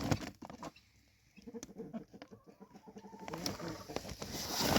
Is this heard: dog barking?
no